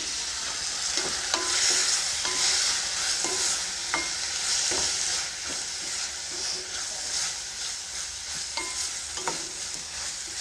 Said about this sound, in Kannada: ನೀರನ್ನು ಹಾಕ್ಕೊಂಡ್ಮೇಲೆ ಒಂದು ನಿಮಿಷ ಚೆನ್ನಾಗಿ ಮಿಕ್ಸ್ ಮಾಡ್ಕೊಳ್ತಾ ಇದನ್ನು ಕುದಿಸ್ಕೊಳ್ಳಿ